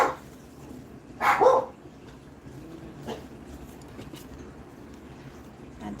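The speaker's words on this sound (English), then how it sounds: "they bark at everything" Dogs barking indoors, one loud burst of a couple of sharp barks early on followed by faint, sparse yips in a quiet room.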